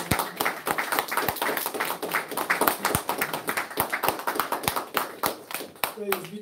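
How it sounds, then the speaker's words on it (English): Applause from a congregation at a temple service: many hands clapping in a brisk, uneven patter, close and fairly loud, with a voice talking at the end. "Let's give our beloved brother spokesman another round of applause"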